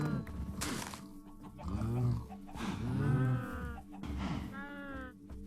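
Minecraft cows give several drawn-out, harmonic moos in succession, fairly close and loud, with a few short gaps between calls and no talking over them.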